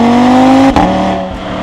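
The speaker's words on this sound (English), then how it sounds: "this car, just because of how unique that 5-cylinder warble is, I think that this is probably up there with my favorite exhaust sound of all time" Audi RS3 five-cylinder exhaust, loud and close, holding a steady droning warble that dips briefly partway through before settling back to a slightly softer rumble.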